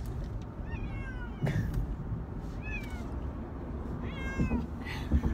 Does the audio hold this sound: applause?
no